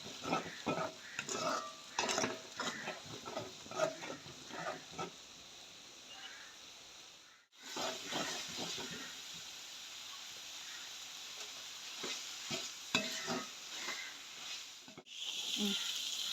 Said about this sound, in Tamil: முட்டையை வந்து இப்படி அந்த கொஞ்சம் வதங்குற மாதிரி இப்படி வதக்கி விட வேணும்.